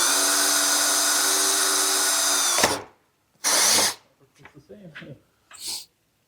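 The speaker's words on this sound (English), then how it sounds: "It's a left-handed drill bit, I just realized." An electric drill spinning a left-handed bit through metal on an S10 truck build, a loud sustained whine that cuts off, then a short second burst, with breathing and small handling noises between.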